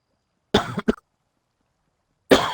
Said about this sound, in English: I don't know if this thing blocks out coughing or not.